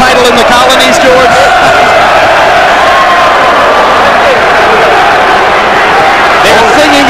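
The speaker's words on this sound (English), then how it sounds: "They're cheering downstairs. The applause is building." Boxing crowd at the Holyfield vs Lewis fight cheering and applauding, a loud, steady roar filling the arena with a commentator talking over it.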